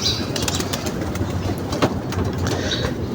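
Pigeons murmur and coo close by amid a dense, rumbling background with scattered clicks and rustles, continuous throughout the short stretch.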